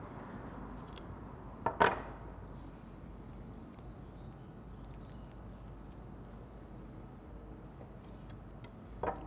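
A knife or shears cut through the soft cartilage of a raw chicken wing flat, giving one sharp snip near the start and a faint click at the end over quiet room noise.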